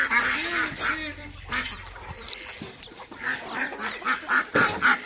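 Ducks and geese on a farm at feeding time, a scatter of nasal quacks and honks, moderately close, rising into quick repeated calls near the end amid light background noise.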